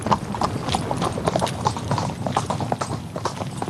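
Horse hooves clip-clop in a steady rhythm on hard ground, close and clear, with no voices over them.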